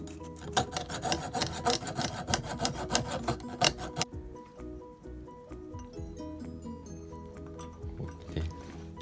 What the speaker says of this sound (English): through this hole I go through the jigsaw and cut like this.